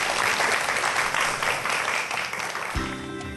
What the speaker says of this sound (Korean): 오늘 재밌는 강연해 주신 차국현 교수님께 박수 부탁드리겠습니다